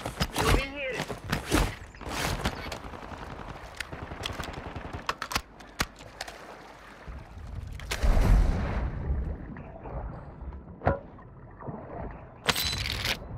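Video game gunfire from a rooftop shooter: scattered sharp shots and bursts crack near and far, fading into quieter stretches before a final loud burst, with a player talking over the exchange.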